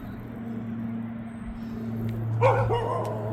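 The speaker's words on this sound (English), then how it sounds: "Let's say hi to the neighbor's dog." A neighbor's dog gives a short bark or yip near the end, close and fairly clear over a steady low electrical hum, with no talking.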